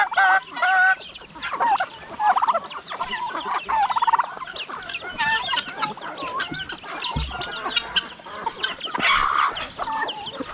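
Several backyard chickens, including hens, cluck and squawk close by in the Philippines in irregular bursts, overlapping calls rising and falling throughout.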